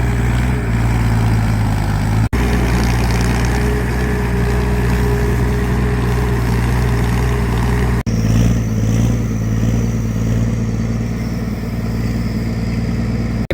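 A farm tractor plowing a flooded rice paddy drones with a loud, steady engine rumble and a low throbbing tone, cut briefly twice.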